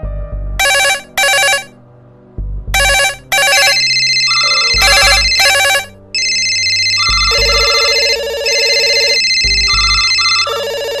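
A mobile phone rings loudly and close by, first in several short, sharp tone bursts separated by pauses, then as a sustained, warbling electronic melody.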